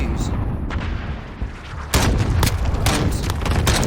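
SKS rifle fire in Call of Duty Modern Warfare: a dense run of loud, sharp gunshots with booming tails, rapid and overlapping in the second half, over a busy game background.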